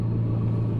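A manual-transmission car idles and pulls away in first gear, heard from inside as a steady, loud low engine drone and rumble with no breaks.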